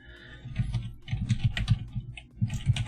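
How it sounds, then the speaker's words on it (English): Rapid, steady clatter of typing on a computer keyboard, close and continuous with brief pauses, with no voices present. "I'm just going to type it into the chat,"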